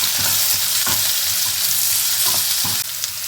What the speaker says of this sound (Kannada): ಈ ಈರುಳ್ಳಿ ಚೆನ್ನಾಗಿ ಫ್ರೈ ಆಗಬೇಕು.